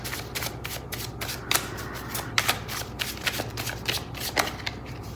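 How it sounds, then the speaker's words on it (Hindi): Tarot cards being shuffled by hand in a close, steady run of soft riffling and flicking strokes with a few sharper snaps, heard alone without talk. "थोड़े और कार्ड्स लूँगी मैं।"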